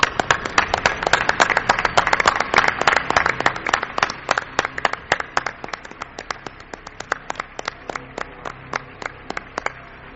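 A live audience at a radio show breaks into applause, with dense, close clapping at full strength that gradually thins and fades over about ten seconds, no speech.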